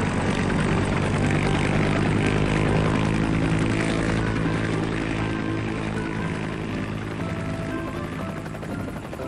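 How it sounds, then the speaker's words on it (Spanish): A cartoon helicopter's propellers spin up for takeoff in a continuous loud, dense rotor and engine roar that holds steady throughout, with no voices. "Las hélices están girando."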